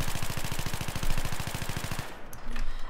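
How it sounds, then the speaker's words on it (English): Rapid automatic fire from an F2000 rifle in Battlefield 3, a loud, steady stream of close gunshots for about two seconds before it stops and a faint metallic tail remains. "Okay, so now it's auto fire with recoil control."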